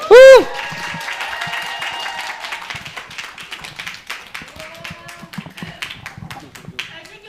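Large audience applauding to welcome an invited honorary ambassador onstage at a corporate event, a dense patter of clapping that starts with a brief loud tone and holds steady for several seconds.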